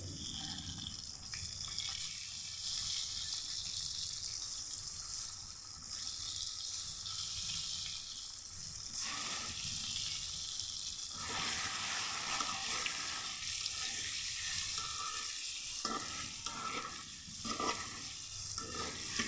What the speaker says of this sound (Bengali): তারপর তেলটা গরম করে নিব, তারপর একে একে ডিমগুলো ছেড়ে দেব।